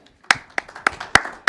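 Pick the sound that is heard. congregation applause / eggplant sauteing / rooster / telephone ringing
congregation applause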